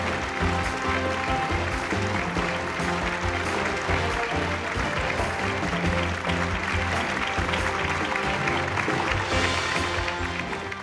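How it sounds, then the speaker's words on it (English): A large audience at an education awards ceremony applauds continuously, a thick, even wash of clapping that stays loud from start to finish. "Please give them a big round of applause."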